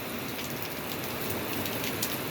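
Steady rain falls in a dense, continuous hiss with fine spattering drops, loud and close throughout a short stretch with no speech.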